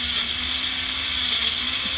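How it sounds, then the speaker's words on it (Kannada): A mixer grinder whirs loudly and continuously, grinding pulao masala ingredients with an even, unbroken motor drone. "ನಾನು ಮಿಕ್ಸಿಗೆ ಹಾಕ್ಕೊತಾ ಇದ್ದೀನಿ ನೋಡಿ"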